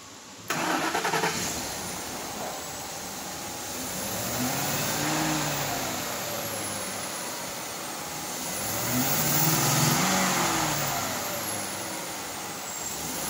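A 2012 Ford F-150 Lariat pickup cranks briefly and fires up, then its engine revs twice in two slow, rising-and-falling swells, close and loud with no talking.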